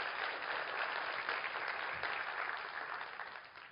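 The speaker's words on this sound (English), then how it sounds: "give her a big round of applause." An audience gives a sustained round of applause, dense steady clapping filling the whole stretch at moderate distance and easing off slightly toward the end.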